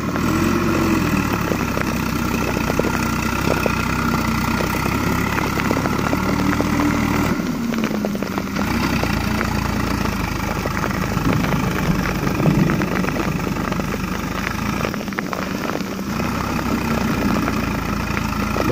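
A heavy Swaraj 744 XT tractor engine with trolley idles close by, a steady low rumble with a continuous mechanical chug that runs the whole time.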